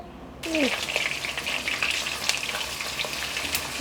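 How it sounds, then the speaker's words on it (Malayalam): Pieces of fish for pickle frying in hot coconut oil, a loud, dense, crackling sizzle that rises sharply after a quiet start and holds steady throughout, close up and without talk. "മീനെല്ലാം എടുത്ത് വെളിച്ചെണ്ണയിൽ മുക്കിയിട്ടുണ്ട് യവൻ കിടന്ന് ഫ്രൈ ആവട്ടെ"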